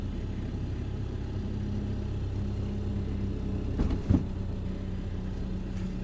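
A car engine drones steadily as it tries for traction in snow in the Wyoming mountains, a constant low rumble with a brief bump in the middle and no clear rise in revs.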